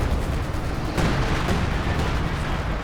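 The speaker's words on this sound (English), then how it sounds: "We got some artillery called in by Xaminichou to try and prevent the capture through the center." Artillery shelling in the World War II strategy game Company of Heroes 2, a steady dense rumble of distant booms and crackling blasts that swells slightly partway through, continuous and fairly loud with no talk.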